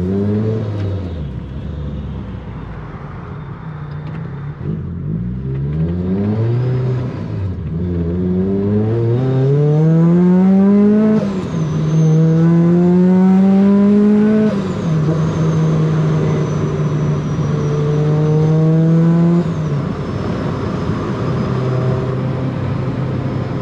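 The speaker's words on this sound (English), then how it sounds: "get into a little more RPM now that I have my fuel map a little bit more dialed in" A Rotrex-supercharged NB Miata engine revs through rising RPM while driving, its harmonics climbing and falling in repeated pulls, loud and close with supercharger whine on top and no talk.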